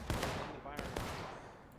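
Musket volley gunfire in the War of Rights video game, several sharp overlapping shots in quick succession during a forest stream public match, quiet and distant.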